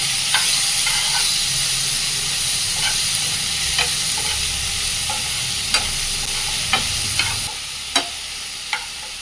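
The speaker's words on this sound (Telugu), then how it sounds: "వెల్లుల్లి గడ్డలు అయితే వేసాను ఫ్రై చేసేస్తాను" Garlic cloves sizzle in a hot pan while being stirred, a continuous close frying hiss broken by several sharp utensil taps near the end.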